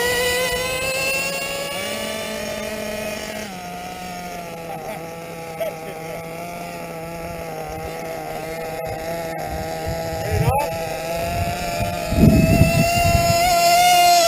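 Novarossi Roma Pico nitro engine running with a steady high-pitched whine that holds and shifts in pitch throughout, with brief louder bursts near the end.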